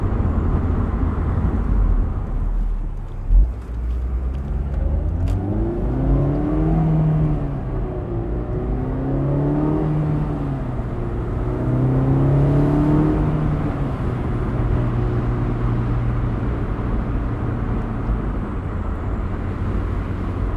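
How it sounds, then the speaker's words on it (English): A 2005 Honda S2000 AP2 engine revs up and down through the gears while driving, with rising and falling harmonic tones over steady road and cabin noise and no talking. "Engine loves to rev."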